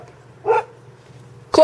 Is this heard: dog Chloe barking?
yes